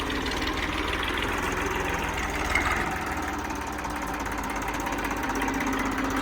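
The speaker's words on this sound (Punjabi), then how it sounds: "ਆਵਾਜ਼ ਸੁਣੋ ਬਾਈ ਟਰੈਕਟਰ ਦੀ" An Indofarm 2050 tractor engine idles steadily with a low, throbbing diesel rumble, close and continuous throughout.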